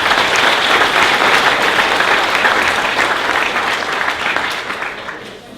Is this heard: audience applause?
yes